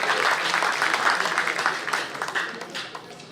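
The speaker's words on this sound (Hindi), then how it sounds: "इनके लिए जोरदार तालियां" A crowd at a mushaira, an Urdu poetry gathering, claps loudly and steadily for a few seconds, the dense patter fading slightly toward the end with some murmuring mixed in.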